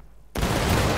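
A company of soldiers fires a musket volley in the Civil War game War of Rights, a sudden loud crackling burst of many shots nearly at once that rolls on with echoing rumble after a quiet lead-in.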